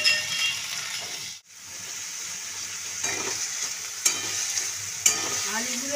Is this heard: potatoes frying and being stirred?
yes